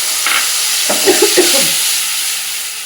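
Coriander leaf and green chilli paste with turmeric, salt and chilli powder sizzles and hisses steadily in hot oil, with a few brief stirring scrapes near the start and no voices.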